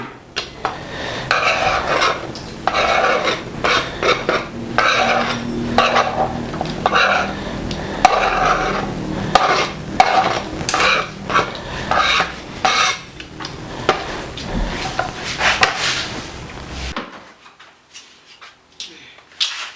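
Chin chin dough being cut into small pieces on a board, giving a busy run of close scraping, tapping and clattering strokes for most of the stretch before dropping off into near silence, with no talking.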